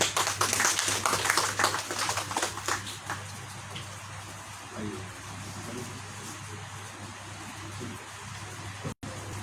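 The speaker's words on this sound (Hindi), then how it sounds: "ज़ोरदार तालियां" An audience at a book launch claps in a burst of applause that tapers off, leaving a hum and a faint murmur of talk in the room.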